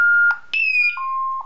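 A Honeywell alarm keypad, disarmed by remote control, gives a loud, close electronic beep, a steady tone that changes pitch partway through.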